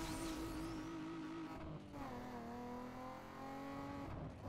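A Toyota Supra in the racing game Need for Speed Underground 2 drifts with a loud, revving engine and squealing tires. The engine pitch drops and then climbs again as the car slides.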